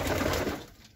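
Pigeons cooing in a loft during winter, a soft steady murmur of coos for most of the moment before it fades quieter toward the end.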